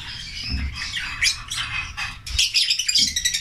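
Small birds chirp and squawk busily at close range, a dense overlapping chatter of high tweets over a low background rumble.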